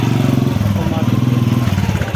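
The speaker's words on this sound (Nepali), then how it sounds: "हामी जिमतर्फ जानु लाग्यो बिले बाइक चलाउँछ" A motorcycle being ridden with passengers on the back, its engine giving a steady, rapid low-pitched throb, close and loud throughout the short stretch, with no clear talk over it.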